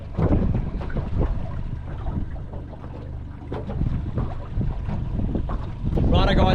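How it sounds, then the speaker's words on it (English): Strong wind buffeting a microphone aboard a fishing boat out on the water, a loud, continuous roar with low rumbling gusts and a faint splash of water near the end. "The wind's picked up and it's sort of become a little bit uncomfortable."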